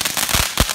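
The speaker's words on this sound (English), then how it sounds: "So that's what like a firework does in the sky." A firework going off in the sky, heard as a short burst of crackling pops and thuds, close and fairly loud.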